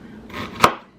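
A single sharp knife chop through onions being cut very small on a board, one crisp close thud near the end of a soft rustle, with no voices.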